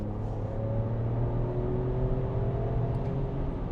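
A Ford Ranger Raptor at full throttle, its engine drone steady and loud from inside the cab, rising gradually in pitch as it pulls, no one speaking.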